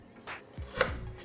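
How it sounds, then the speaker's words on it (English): A knife cuts through lemongrass on a board, a few close, crisp chops in quick succession, with no talking. "And so how I cut the lemongrass, I'm going to cut it like that."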